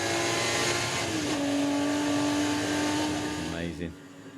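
Porsche Carrera Cup car with a 3-litre flat-six, revving to about 7,000 rpm, loud and sustained with a rising then steady engine note before dropping away, under talk.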